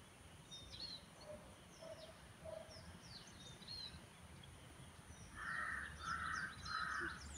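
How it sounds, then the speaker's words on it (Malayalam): A crow caws in short repeated bursts near backwater trees by Manoor lake, with fainter small-bird chirps scattered through a quiet outdoor background. "കുട്ടിക്കിളികളും വലിയ കിളികളും ഒക്കെ ഉണ്ട്."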